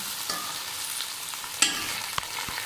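Okra (lady finger) frying in hot oil in a pan, a steady close sizzle with a couple of sharp spatters and utensil scrapes as it is stirred; no talking.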